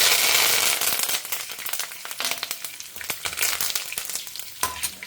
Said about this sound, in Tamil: இப்போ கடுகு பொரிய ஆரம்பிச்சுட்டு பருப்பெல்லாம் செவக்க ஆரம்பிச்சுட்டு